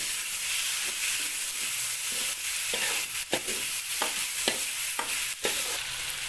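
Chicken hearts and livers are sautéed in a pan, a steady hissing sizzle broken by repeated spatula scrapes and knocks at a roughly regular pace, close and fairly loud, with no speech.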